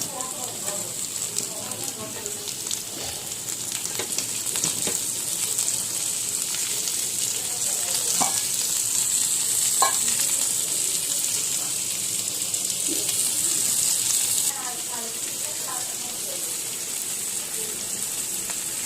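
Chopped tomatoes fry in a pan with a steady, moderate sizzle that runs the whole time. Faint scraping clicks from stirring come through now and then, and a few quiet voices can be heard in the background.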